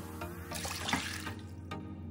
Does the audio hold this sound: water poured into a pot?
yes